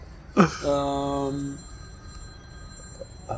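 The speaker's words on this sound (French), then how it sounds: "Le téléphone de la Matrix qui sonne." A telephone rings with a Matrix-style ringtone out on a street in Algiers: one steady electronic tone lasting about a second, fairly close, with voices around it.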